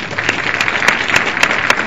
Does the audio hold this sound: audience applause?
yes